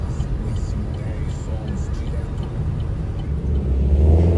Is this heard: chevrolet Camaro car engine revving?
yes